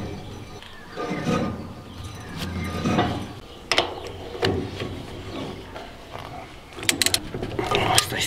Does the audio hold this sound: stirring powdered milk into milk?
no